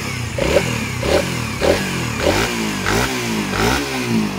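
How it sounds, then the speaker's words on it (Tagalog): A Honda Raider 150 Fi motorcycle engine runs close by, revving up and down in a rough repeating rhythm with some mechanical clatter. "So, ganda na ng tunog ng makina niya mga calls."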